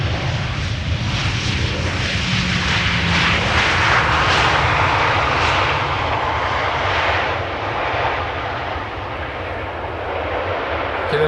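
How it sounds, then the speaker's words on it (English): A KLM Boeing 737 arriving at Amsterdam Schiphol, its engine roar swelling loud and close, then easing back into a lingering broad rush as it passes. "KLM 737 arriving from Birmingham."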